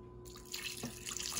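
Water pours into a pot of carrots, onions, celery and garlic for prime rib bone broth, a soft splashing that starts after a short hum and builds slightly, fairly quiet and alone.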